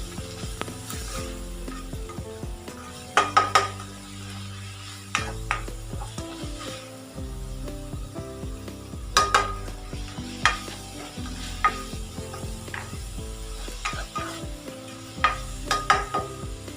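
Minced pork for Thai pad kra pao being stir-fried in a pan: a continuous sizzle under repeated metallic clanks and scrapes of a spatula, with irregular loud bursts of stirring throughout.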